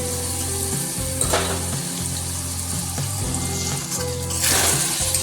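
Spice paste with yogurt frying in a pan for Bengali dum aloo, a constant close sizzle with occasional stirring scrapes and a louder hiss toward the end, no talk.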